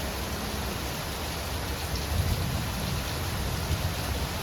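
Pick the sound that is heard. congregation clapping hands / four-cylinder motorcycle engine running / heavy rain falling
heavy rain falling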